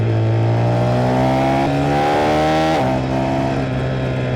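A car passes on the road during an A2 motorcycle ride. Its steady engine drone blends with the bike's own loud, continuous motor hum, and the pitch drops sharply as the car goes by.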